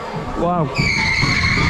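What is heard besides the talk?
Shockwave roller coaster at Drayton Manor diving into the brakes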